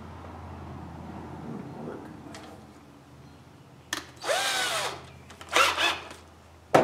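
Power drill fitted with a 1/8 inch bit boring into wood during a carving project, heard as several short loud bursts of whirring with pauses between, close by and without talk.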